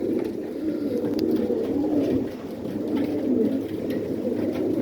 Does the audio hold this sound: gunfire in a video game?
no